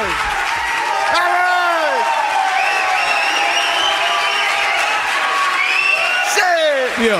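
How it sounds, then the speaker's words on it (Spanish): A live show audience at the start of a comedy podcast recording, a loud dense wall of clapping with whoops and shouted cries throughout, and voices calling out over the applause. "Siempre, siempre me encantan estos aplausos del inicio porque hay gente que grita"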